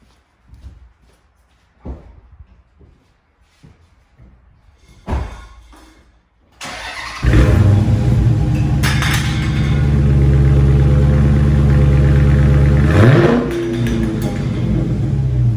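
Car engine cranks and starts with a loud burst, then settles into a steady, rumbling idle as the exhaust blows at soda cans set up in front of it, after a few quieter knocks and handling sounds.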